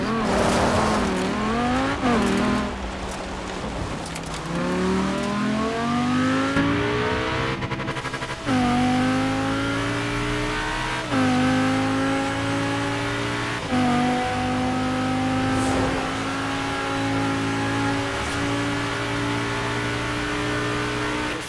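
A Lamborghini engine in Forza Horizon 4 revs loud and close, climbing in pitch through repeated upshifts with brief dips between gears, and tires squeal faintly beneath the roar.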